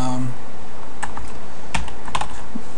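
A computer keyboard being typed on while entering login credentials during a Cisco Container Platform 5.1 install, a few loud, close keystrokes in an uneven cluster, with a faint voice at the start.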